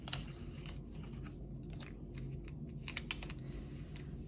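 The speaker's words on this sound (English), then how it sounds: "I'm gonna need to use the gyro cut to get them all off the page" A Gyro-Cut craft knife cuts stickers off a planner page, giving quiet, quick ticking and scratching clicks in irregular bursts close by.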